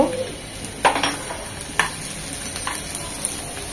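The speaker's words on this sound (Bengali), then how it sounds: "সব একদম লাল লাল করে ভেজে নেব" Chopped ginger, garlic and onion fry in soybean oil, a constant bright sizzle broken by three distinct spatula scrapes against the pan at roughly one-second intervals.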